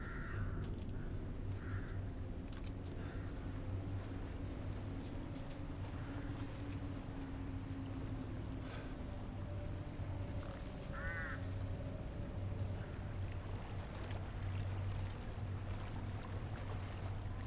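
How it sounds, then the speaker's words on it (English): Crows caw in Resident Evil Village, a short burst of calls rising over a steady low rumble of water and wind, with a few fainter caws scattered through the ambience. "That's a lot of crows."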